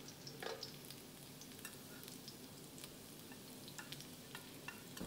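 Butter and garlic stir-frying in a pan for crab fried rice, a steady close sizzle with scattered spatula scrapes and clicks throughout, no talking.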